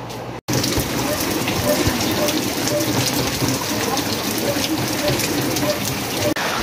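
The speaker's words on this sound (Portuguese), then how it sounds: "Como vocês estão vendo, está chovendo, né?" Rain falls steadily outside, a dense continuous patter close by with no break except one brief dropout at the start.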